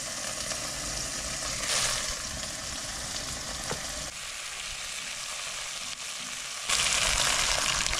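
Snakehead fish (dalag) going into a pot with ginger, garlic, onion and tomato, giving a steady, fairly loud sizzle with bursts of hissing and faint stirring.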